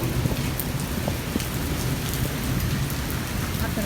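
Heavy rain pours down in a village, a dense, loud, steady wash of drops hitting surfaces. Low thundery rumbles roll underneath throughout.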